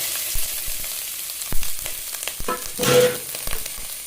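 Steady frying sizzle of grated coconut in a pan with scraping stir sounds, a louder burst of crackling near the end; no voices.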